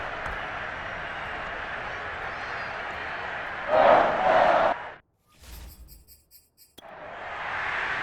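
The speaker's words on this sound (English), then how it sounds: "Plenty of shouts from this crowd as they watch the replay" Stadium crowd in a Madden 23 Packers vs Giants game at Tottenham Hotspur Stadium, London, a steady roar that swells into louder shouts, cuts out briefly with faint chimes, then returns.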